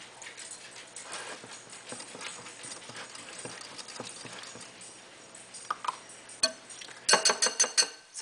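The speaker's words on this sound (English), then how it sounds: "We'll give that a quick stir." Breakfast quiche mixture of egg and cheese being stirred quickly in a bowl, soft scraping and tapping of a utensil, ending in a rapid run of louder clinks against the bowl, no talking.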